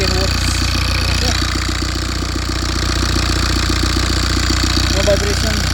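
A rebuilt BMW N47 diesel engine idles loudly and steadily up close, its even rapid knocking pulse continuing without change throughout.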